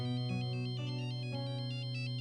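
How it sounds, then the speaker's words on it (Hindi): A phone ringtone plays a repeating electronic melody, steady and clear, with no voices over it. "तारा का फोन है।"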